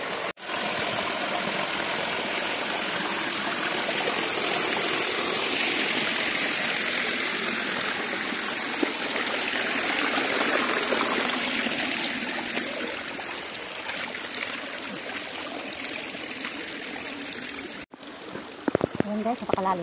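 Stream water flowing through a cool, dense forest, heard as a close, steady rushing wash that stops abruptly near the end, followed by a brief stretch with a voice.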